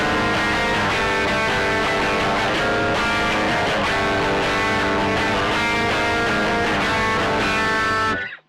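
A shoegaze-style electric guitar rings out a two-note interval, heavily distorted and washed in effects, sustaining loud and dense for about eight seconds before cutting off abruptly.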